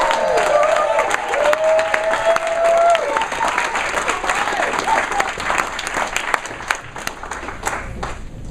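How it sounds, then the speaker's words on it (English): Audience applause welcoming speakers onto the stage at a network marketing event, a dense, steady burst of clapping from a crowd with some voices and cheers mixed in, sustained throughout before gradually thinning. "Please put your hands together and help welcome Eric and Victoria Duncanson."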